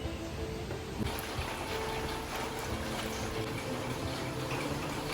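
A steady, rushing stream of water pours continuously into a vessel for making tea, close by, with no voices.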